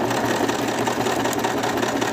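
A sewing machine runs steadily and loudly up close while stitching a plush mouse, a continuous even whir with no pauses or voices.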